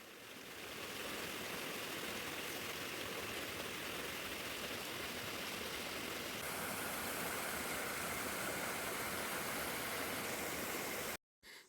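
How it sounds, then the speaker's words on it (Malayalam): A forest waterfall and stream among hills roar in a steady, dense rush of water, loud and unbroken, with no voices, before cutting out abruptly at the very end. "അപ്പോൾ ഇതാണ് വെള്ളച്ചാട്ടമുള്ള സ്ഥലം"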